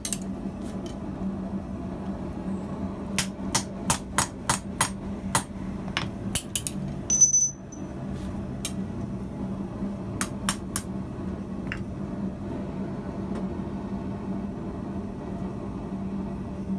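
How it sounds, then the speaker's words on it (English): A hammer strikes a drift to enlarge rivet holes in blacksmith's tongs, a burst of sharp metallic blows in quick succession followed by a pause and a few more spaced strikes over a low background hum. "I drift the holes to approximately that size"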